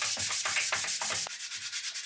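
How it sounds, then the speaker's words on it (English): Hand sanding of dried filler primer on a 3D-printed part with 120-grit paper, heard as quick rhythmic scratchy back-and-forth strokes, close and fairly loud, pausing briefly near the end. "Now we gotta do more sanding."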